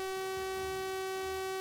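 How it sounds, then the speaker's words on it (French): A block defense alarm siren in an underground complex sounds as a sustained steady tone, continuous and moderately faint throughout with no talk. "C'est la sirène d'alarme de défense du bloc."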